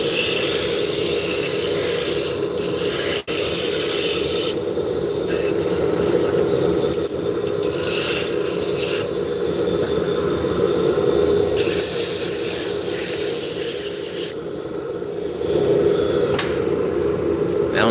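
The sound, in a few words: spindle gouge turning wood on a lathe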